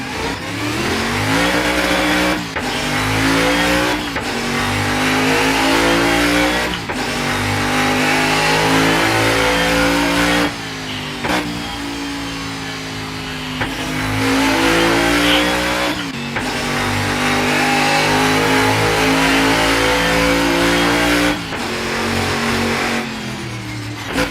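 A modded car in a video game revs hard and loudly, its engine climbing through repeated rising pitch sweeps with brief drops between gear changes, sustained for the whole stretch with no talking.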